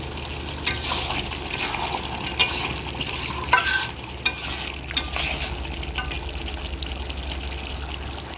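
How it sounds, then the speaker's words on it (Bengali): Mutton rezala in a pan uncovered and stirred, a spoon scraping and knocking through thick simmering meat amid steady sizzling and a low bubbling hum, with sharper clinks in the middle. "কিছু সময় পর আমাদের ঢাকনাটা একটু তুলে দিয়ে একটু নেড়ে নিতে হবে"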